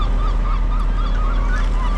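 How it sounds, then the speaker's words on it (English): Seagulls call at a landfill over a constant loud rumble of wind and machinery, their thin cries faint and repeated in the busy background. "Good old seagulls."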